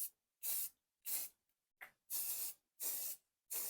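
Green paint sprays onto a Worthington Ingeco engine head in six sharp, hissing bursts, each lasting about a quarter to half a second with short silent gaps between them, close and steady.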